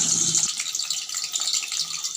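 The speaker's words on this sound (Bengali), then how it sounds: "তেলটা গরম হয়ে গেছে, কেটে রাখা আলুগুলোকে একটু ভেজে নেব।" Cut potatoes fry in hot rice oil in a wok, giving a steady, hissing sizzle at close range throughout, with a brief low clatter at the start.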